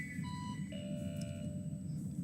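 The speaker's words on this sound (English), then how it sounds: "So I got an alarm that's going off at the 10-minute mark" An alarm goes off with a few short electronic beeping tones, thin and quiet over a low steady hum, lasting only a couple of seconds with no voices.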